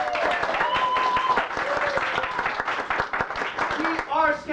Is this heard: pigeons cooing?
no